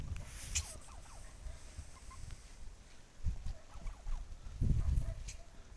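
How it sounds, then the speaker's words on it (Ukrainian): Turkeys gobble in short bursts at a moderate distance, over a constant background hiss with occasional low thumps. "Ось такі індики"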